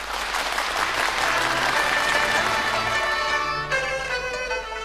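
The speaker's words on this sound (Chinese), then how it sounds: "我们掌声欢迎" Sustained audience applause at a 2004 Yue opera stage performance, dense and loud throughout, with a few cheers and shouts rising above the clapping.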